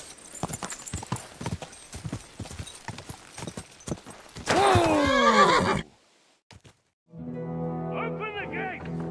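Horse hooves clopping in a quick rhythm in the Kingdom Come Deliverance 2 video game, then a loud, close neigh, a short quiet gap and a second whinny, with people talking around them.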